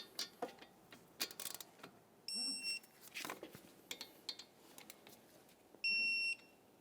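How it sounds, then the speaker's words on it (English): A torque wrench tightens the caliper slider mounting bolts on a 2014-2019 Toyota Corolla, with a handful of faint metallic clicks and ratcheting ticks in a quiet garage and a couple of short electronic beeps. "Got our torque wrench."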